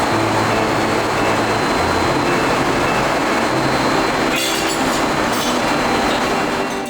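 A train rumbles along the rails in China with a steady, loud roar, with brief metallic clacks and squeals from the wheels near the end.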